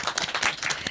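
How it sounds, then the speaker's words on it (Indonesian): A radio studio audience claps for a group of pageant finalists, a brief close patter of many hands. "Tepuk tangan dong buat kalian."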